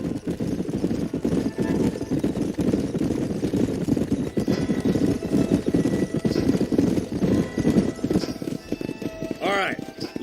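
Horse hooves clip-clop steadily in the Western video game Red Dead Redemption, a continuous trotting rhythm over a low rumbling background, with a brief voiced call near the end.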